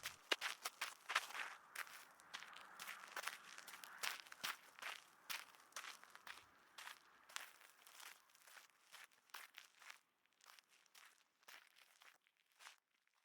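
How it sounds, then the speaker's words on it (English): Footsteps crunch and scuff in a steady rhythm, starting fairly near and growing fainter and sparser as they move away, with nothing else heard. "I hear his footsteps moving away."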